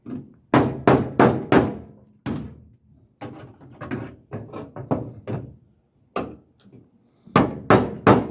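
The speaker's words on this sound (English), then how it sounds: "going to be a lot of hammer work on this one." Sharp, loud hammer blows on the metal body of a 1956 Chevy project car, struck in quick bursts of three and four with short pauses between groups, ringing and close.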